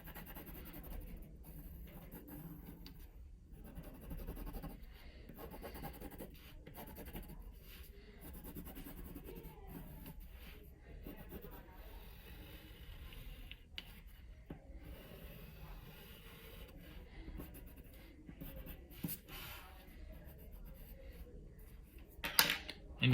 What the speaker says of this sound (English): now I'm gonna take my pencil and I'll go back through the lines